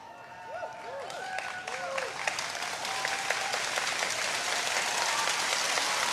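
Loud, sustained applause from a large graduation audience, clapping building steadily in density over a few seconds, with a few faint whoops and voices rising through it.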